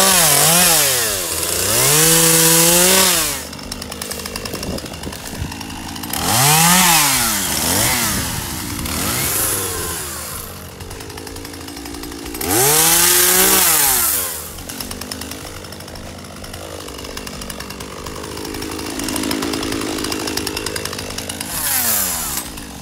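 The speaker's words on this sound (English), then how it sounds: "We're going to grab the chainsaw" Gas-powered chainsaw cutting fallen tree branches outdoors on a homestead lawn, with several loud revving bursts as the engine bogs into each cut, separated by lower idling stretches, close to the listener and no talk.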